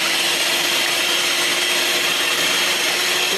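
An electric whisk beats a mixture that is turning white, fluffy and cloud-like, with a steady, loud, continuous whirring buzz throughout.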